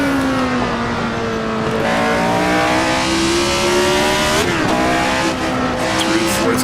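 A Tyrrell 002 race car in Assetto Corsa screams through the gears near and loud, the engine pitch climbing steadily, dipping sharply at a shift, then rising again under occasional talking.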